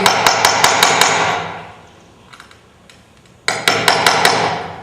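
Rapid metallic hammer taps striking a center punch to mark a drilling point, a quick series of sharp ringing hits, a brief pause, then another fast run of taps.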